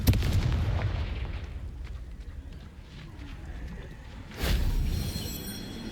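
Confringo blasting spell explosion in the Hogwarts Legacy video game: a sharp blast bursts out near the start and a second loud burst follows later, with rumbling game sounds filling the gaps between them.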